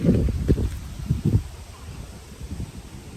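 Low, gusty wind rumble buffeting the microphone by the Daraitan River in Rizal, strongest in the first second and a half, then easing to a softer steady roar.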